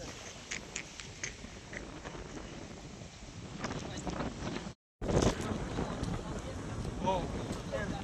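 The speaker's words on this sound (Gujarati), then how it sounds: "પવન બહુ આવે છે" Strong wind buffets the microphone outdoors, making a steady loud rumbling roar with gusty thumps. A brief dropout occurs midway, then the blast resumes with faint voices underneath.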